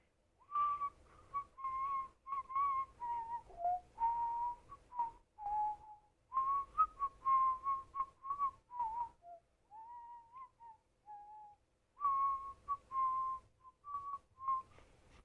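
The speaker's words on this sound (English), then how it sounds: "Can you whistle, sucking air in rather than spewing it out?" A person whistles while sucking air inward rather than blowing out, producing a clear, close melodic tune in short phrases with brief pauses and no talking.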